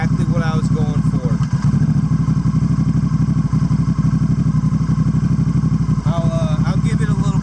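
Honda Rebel 1100 motorcycle fitted with an aftermarket exhaust, its engine rumbling loud and steady with deep low tone and brief throttle blips, while someone talks over it.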